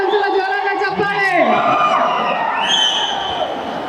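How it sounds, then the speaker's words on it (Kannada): Audience at a pre-release film event cheering and whooping loudly, a continuous roar of crowd voices with rising shouts and whistles, near and sustained throughout. "ಒಂದ್ಸಲ ಜೋರಾದ ಚಪ್ಪಾಳೆ."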